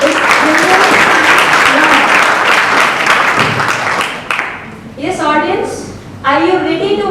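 Students at an inter-house school science quiz break into loud, full applause that runs for about four seconds before fading, followed by people speaking.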